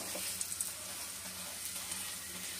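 A paratha sizzles steadily in a hot oiled pan while a spatula presses it down, giving a close, continuous hiss with a few soft taps and scrapes and no talking.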